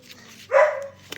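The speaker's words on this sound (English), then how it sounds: "You can hear my puppy crying." A puppy gives a single short, close cry that breaks into a yelping bark, then falls quiet. The room stays otherwise still.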